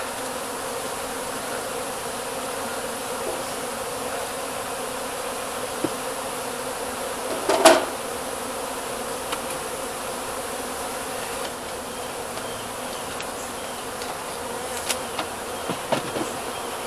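Honeybees from a hive built inside a deer feeder buzz in a dense, continuous drone, close and loud and steady throughout, with a few faint clicks and knocks breaking through near the middle and end.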